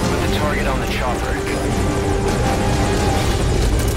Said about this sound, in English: Put the target on the chopper.